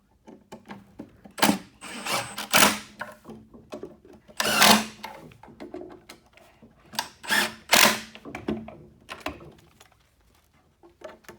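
A powered driver runs washer head screws into an Outermost chair during assembly, giving short whirring bursts of several seconds each, close and clear, separated by quiet pauses.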